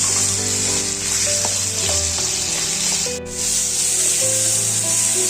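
Onions frying for a crab gravy hiss with a loud, constant close sizzle in a pan, with occasional stirring scrapes and a low steady hum underneath, no talking.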